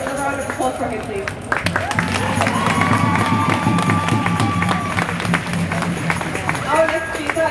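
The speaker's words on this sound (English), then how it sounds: "Another round of applause for him" At a Free Palestine rally, a crowd claps and cheers for a speaker. The applause is loud and sustained, with crowd noise and some voices mixed in.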